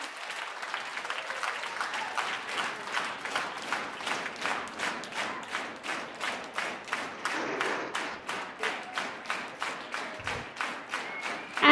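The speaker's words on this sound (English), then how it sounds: "let's give them a big round of applause and thank them for being here today" Rhythmic applause at a yoga award ceremony: a crowd claps in unison with a strong, regular beat of roughly two claps per second that holds steady throughout.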